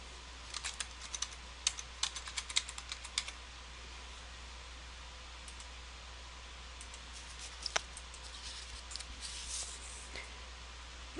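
Keystrokes on a computer keyboard entering a word into a library catalog search box, a quick burst of clicks at the start, then a pause and a few scattered taps near the end; quiet and close with no voices.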